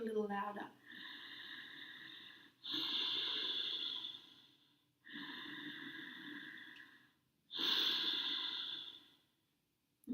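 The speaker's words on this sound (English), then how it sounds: "It's almost like a closing the throat. So it's Darth Vader sound." Ujjayi yoga breathing through a constricted throat gives a hoarse, rushing Darth Vader-like sound, heard as four long, steady breaths close up with short pauses between them.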